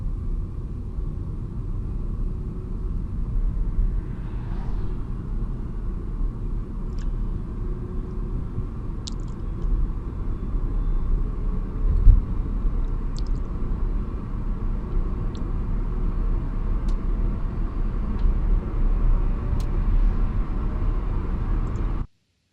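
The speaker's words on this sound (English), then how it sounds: "a car will come down the hill and pass us, and we'll hear that in a moment." A car comes down a hill and passes by, heard as a steady low rumble that swells gently toward the middle and then fades. Faint high tones sit above the rumble, and no one speaks.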